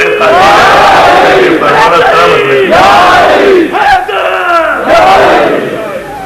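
A large crowd at a religious gathering in Model Town, Lahore roars a slogan back in unison, loud, dense chanting voices rising and falling in repeated surges throughout.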